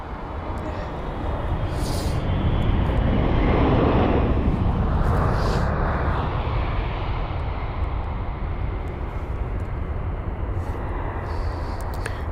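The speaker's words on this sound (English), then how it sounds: "That's the Japan Airlines 777." A Japan Airlines Boeing 777 at London Heathrow rumbles past, its engine roar swelling to a broad peak early on and then settling into a steady distant drone.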